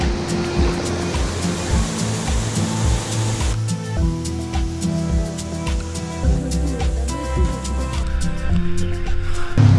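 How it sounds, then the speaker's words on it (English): A waterfall in Indonesia after rain roars as a broad, steady rush of falling water close by, loud and continuous, with a shift in texture partway through and some faint background sounds. "We found the waterfall."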